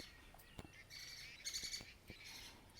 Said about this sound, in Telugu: పక్షులు కిలకిలలు.